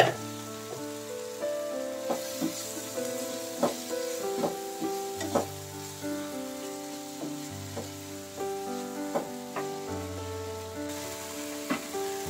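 Paneer do pyaza with shahi garam masala frying in ghee, sizzling steadily while a spoon stirs and scrapes the pan in repeated strokes, close and moderately loud, with no talking.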